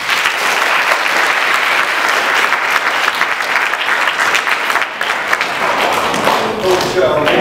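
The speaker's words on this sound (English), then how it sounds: "Clap it up for Ryan, please." A school assembly audience at East High School applauds a student, a dense steady round of clapping with a few cheers, lasting several seconds, with some voices mixed in.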